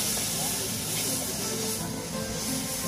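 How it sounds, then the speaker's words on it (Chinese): Soybean sprouts stir-fried over a fierce high flame by an elderly cook at an outdoor market stall, giving a loud continuous hiss and roar of steam and frying with no pause. "爆炒黄豆芽"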